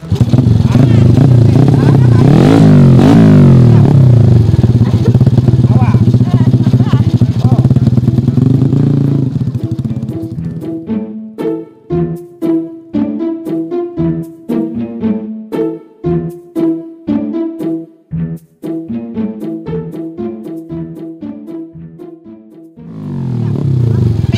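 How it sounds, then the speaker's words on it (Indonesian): An old, beat-up motorcycle roars loudly and is revved hard up close, then cuts into a choppy series of sputtering bursts and restart attempts before it catches and runs loudly again. "Kieu nyelah motor ha."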